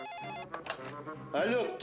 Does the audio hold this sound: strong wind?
no